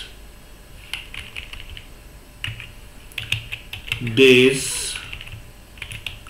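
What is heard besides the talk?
typing on a computer keyboard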